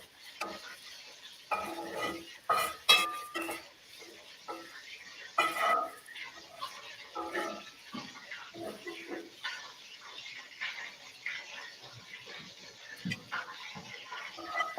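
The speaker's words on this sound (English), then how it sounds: "And my ghee is bubbling." Ghee bubbling and sizzling in a pan, a steady soft crackle under clinks of utensils and stirring, with people talking intermittently.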